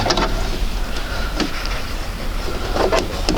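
A sewing machine stitches layered quilt fabric for a sampler block, its motor giving a steady mechanical whir with a few brief clicks and rises as the needle runs along the lines.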